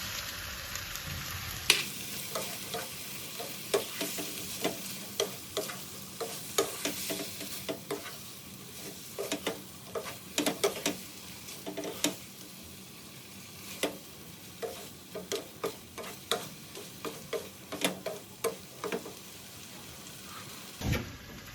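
Sea catfish stir-fried in a pan for a Thai dish, with steady sizzling and frying hiss broken by frequent sharp clacks of a spatula stirring against the pan, close and continuous with no talk.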